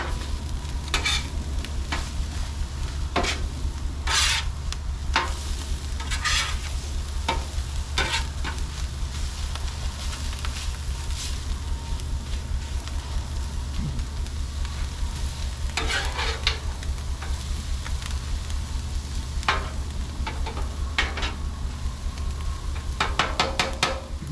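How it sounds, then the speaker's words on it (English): Sauerkraut and onions fry and brown in a pan, giving a steady, even sizzle throughout, with scattered sharp clicks and scrapes from stirring laid over the constant hiss. "What I'm looking for is a slight browning on the sauerkraut, and just as the onions start to turn a little translucent"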